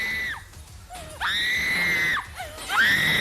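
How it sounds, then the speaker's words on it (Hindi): People screaming in terror while a house is attacked with stone-throwing and arson, several loud, wailing shrieks that rise and fall in repeated bursts, close and piercing. "ये चीखें आपको परेशान करेंगी।"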